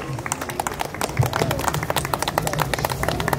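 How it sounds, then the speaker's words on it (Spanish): Wedding guests applaud a speaker in a crowded room, a brief burst of dense, steady clapping with murmuring voices mixed in. "Fuerte las palmas para él, por favor"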